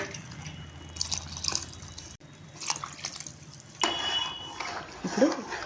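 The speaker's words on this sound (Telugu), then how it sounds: "ఇప్పుడు 1కి 2 చొప్పున మనం వాటర్ పోసేసుకోవాలి." Water poured from a vessel into rice in a cooking pot, splashing and trickling close by in short bursts, with a brief pause midway and no talk.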